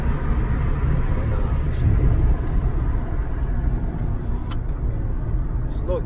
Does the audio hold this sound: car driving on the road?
yes